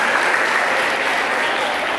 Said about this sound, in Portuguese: Vamos aplaudir aí o grupo que representou